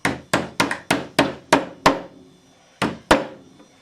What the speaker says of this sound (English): take a hammer and just seat the ends